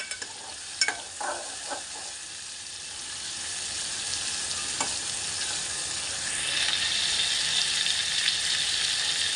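Tomatoes fry in a pan for a prawn curry, a spatula stirring with a few scraping knocks early on, then a steady, gradually strengthening sizzle that carries on alone, quiet and close.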